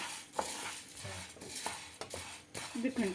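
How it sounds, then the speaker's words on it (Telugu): Toor dal stirred and roasted in a dry pan for homemade sambar powder: a spoon scrapes and taps against the metal in irregular strokes, with faint rustling of the lentils, quiet and close. "ఇది కందిపప్పు వేస్తున్నాను ఇప్పుడు"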